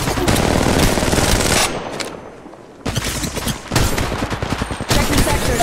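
Rapid automatic gunfire in the mobile battle royale Apex Legends Mobile, loud and close, with dense bursts that break off briefly before resuming in sustained volleys.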